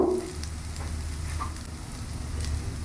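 Filling for Chinese singara mixed in a hot pan, a steady soft sizzle with light stirring scrapes, close by and alone, with no voices.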